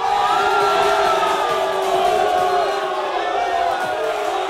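A large crowd roars and cheers continuously at a basketball game in Cebu as a player hypes them up, a dense wall of voices with rising whoops and shouts.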